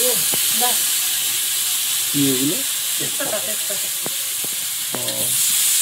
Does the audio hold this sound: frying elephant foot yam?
yes